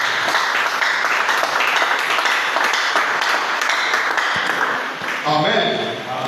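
A congregation at a married couples' church gathering applauds and cheers, a dense, steady wash of clapping and voices that holds loud throughout and dips briefly near the end.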